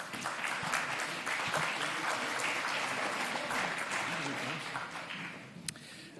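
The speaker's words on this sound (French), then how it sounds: "Merci de l'applaudir." An audience at the IFD gathering applauds steadily for Augustin de Romanet, CEO of Groupe ADP, sustained dense clapping from many hands filling the room for several seconds before tapering slightly.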